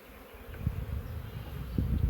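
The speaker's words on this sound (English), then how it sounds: "And she's got a lot of bees" Honey bees hum around an open hive during an inspection, a low, steady buzz of many insects close by with a few louder swells as bees pass near.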